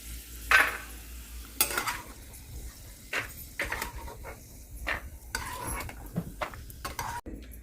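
Almonds and cashews frying in a pan, a faint sizzle under intermittent clinks and scrapes of a spoon stirring against the metal, close and quiet.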